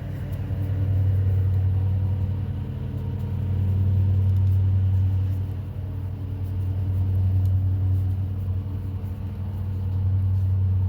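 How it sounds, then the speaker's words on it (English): A small engine drones steadily nearby, its low hum swelling and fading as it moves back and forth, like a lawn mower at work. "As you can tell, one of our neighbors is mowing."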